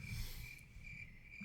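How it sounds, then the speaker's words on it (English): Crickets chirp in a steady, continuous high trill, faint and alone, used as a comedic silence sound effect. "Crickets."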